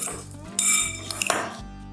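Potatoes tossed with oil and spices in a bowl for air frying, giving repeated clinks and scrapes of utensil against the dish, with a couple of sharper knocks near the middle.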